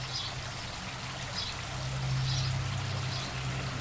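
Water trickles steadily down a small aquaponics waterfall, a continuous close splashing wash over a low hum with no voices.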